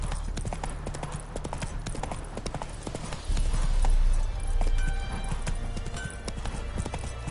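Hooves of Roach, a horse in The Witcher video game, clip-clopping in a steady galloping rhythm, close and fairly loud over low rumbling background, swelling louder midway.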